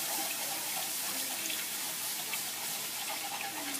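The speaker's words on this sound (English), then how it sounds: "keep stirring continuously while you're pouring your 4 cups of milk into this mixture" Milk poured into a flour, onion and butter mixture for a bechamel sauce, a steady, even hissing trickle of liquid that continues unbroken and fairly faint throughout.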